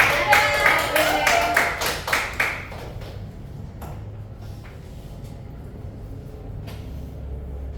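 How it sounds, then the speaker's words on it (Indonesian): A classroom of students claps hands together in a burst of quick, loud claps that fades after a few seconds into quiet room noise with faint taps. "Beri tepuk tangan ya."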